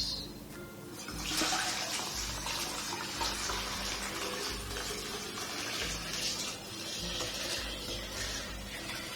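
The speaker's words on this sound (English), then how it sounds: "I'm going to dump the rest of this through the strainer." Homemade blueberry wine poured from a bucket through a strainer, a steady rushing, splashing flow of liquid heard close up for several seconds with no talking.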